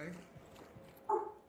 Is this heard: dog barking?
yes